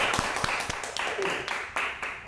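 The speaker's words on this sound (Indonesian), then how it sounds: "Tepuk tangan dong." A few sharp claps ring out, spaced unevenly over a steady hum of background noise, with a couple of quick slaps in a row.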